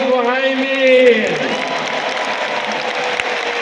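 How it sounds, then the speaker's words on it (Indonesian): At Anies Baswedan's final campaign rally at Jakarta International Stadium, a large crowd claps and cheers. A sustained tonal voice or chant rings out first, then fades into a broad roar of applause that continues to the end. "Tepuk tangan dulu yang meriah untuk Gus Muhaimin."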